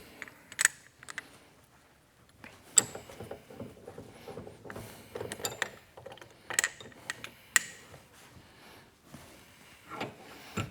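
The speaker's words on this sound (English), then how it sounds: "So we're going to go ahead and clamp those." Small parts of a KS LEV Integra A12 dropper seatpost being clamped between soft pine wood blocks in a vise, heard as quiet scattered metallic clicks, ratcheting ticks and light handling knocks at close range.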